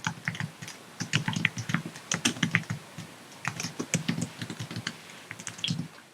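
Rapid, uneven keystrokes on a computer keyboard while code is typed, clicking close and clear in bursts with short pauses and no talking.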